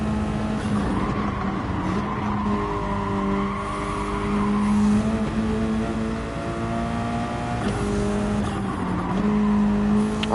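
A race car in Gran Turismo 7 brakes with a steady engine drone and drawn-out tire squeal that rises and falls in pitch, loud and continuous throughout.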